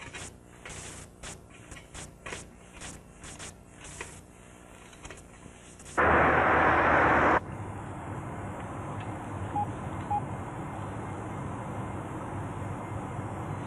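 Telephone being dialed in a police drama, a series of short clicks and tones at the start, followed by a brief loud burst and steady room noise, with no talk.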